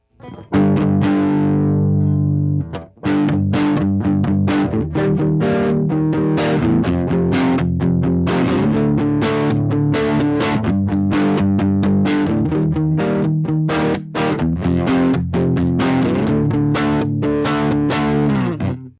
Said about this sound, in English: The modern one, we're going to give it a mild distortion.